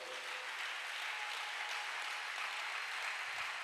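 A worship congregation applauding and cheering together, a steady, dense wash of clapping that holds at an even level throughout with no voices standing out.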